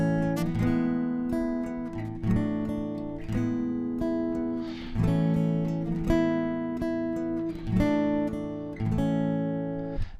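Acoustic guitar playing the subdued, altered chorus riff of a song, with strummed chords and picked notes ringing in a relaxed repeating pattern, close and moderately quiet, alone without voices.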